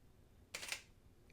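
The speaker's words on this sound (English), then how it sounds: "pay attention to how long it takes from when the screen goes dark to when you hear the shutter" A single camera shutter click from a DSLR shooting product photos in manual mode, a sharp mechanical snap followed by a slower closing sound about a third of a second later, alone in a quiet room.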